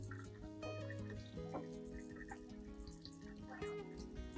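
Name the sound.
rinsing plant with running water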